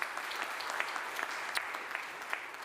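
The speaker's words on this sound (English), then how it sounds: "A round of applause for Valentina." Steady, dense applause from a conference audience after a panel speaker on healthcare professionals and patients finishes, sustained at an even level throughout.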